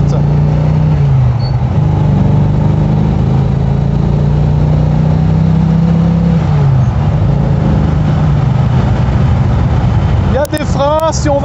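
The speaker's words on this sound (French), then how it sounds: "Il y a une bonne reprise, il y a un bon V8." A deep, throaty V8 engine of an AMC Javelin AMX muscle car drones and revs steadily for several seconds, loud and close, rising and falling in pitch before a voice briefly cuts in near the end.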